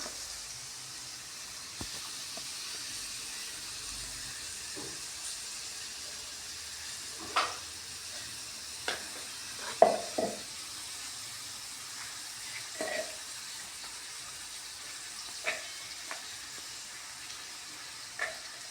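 Onions sautéing in a pan, a faint, steady hiss of frying broken by scattered soft pops and spits, with no one talking.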